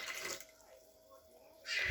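Hot water poured out for manti dough, a short splashing pour at the start, a quiet pause, then another brief burst of pouring near the end.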